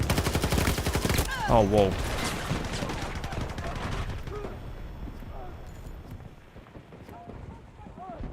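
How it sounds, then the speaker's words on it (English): Continuous automatic LMG fire in the video game Battlefield 2042, a dense rapid burst up close for the first second or so, then quieter scattered battle noise with a man reacting briefly over it. "Or I can just continually shoot without having to reload."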